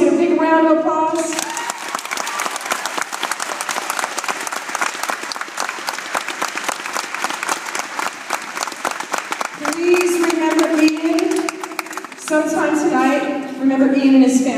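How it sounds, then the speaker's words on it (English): An audience in a high school gym applauds and cheers at a volleyball cancer awareness night, with loud, dense, sustained clapping through the middle. An amplified voice speaks before and after. "Let's get a big round of applause."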